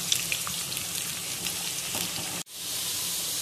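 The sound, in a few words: onion slices frying in oil until golden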